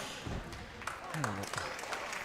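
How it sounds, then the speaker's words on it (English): At a curling semi-final, a crowd cheers and applauds in a continuous, fairly distant wash of noise, with a voice briefly rising above it. "The crowd goes wild in here"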